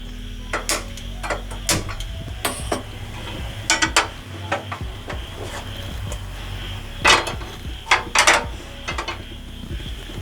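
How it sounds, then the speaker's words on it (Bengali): A metal kadai is set down on a gas stove in a home kitchen, with several sharp clanks and scraping metallic knocks scattered over a low burner hum, close and fairly loud. "এবার আমি ফ্লেম অন করে কড়াই বসিয়ে"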